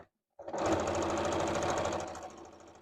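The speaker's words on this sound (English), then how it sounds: "I'm just sewing as close to the edge as possible" A sewing machine runs steadily after a brief silence, stitching black thread close to the edge of fabric for a Yupik qaspeq vest; a close, continuous mechanical whir lasting over two seconds.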